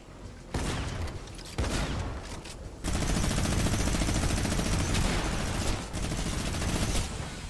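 A minigun in the Arena video game fires in long continuous bursts, a loud dense roar that starts and stops several times with brief gaps between the sustained volleys.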